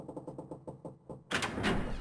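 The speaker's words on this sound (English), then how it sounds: "Clover slammed through the door and disappeared out of the room." A door slams in the video game 999, a sudden loud impact with a sustained rush of noise following several softer, evenly spaced knocking taps.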